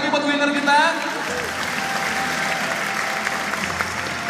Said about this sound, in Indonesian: Tepuk tangan sekali lagi buat winner kita.